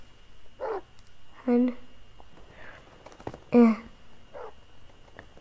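Several dogs bark in a Minecraft game, sharp yips and bow-wows in short separate bursts spread across the moment, fairly close, with a voice speaking briefly between them.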